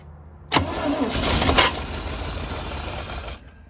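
A 1974 Chevy Monte Carlo engine, run after sitting for years, catches with a sharp burst, revs roughly for about a second, then settles into a steady idle before dropping off near the end, loud and close.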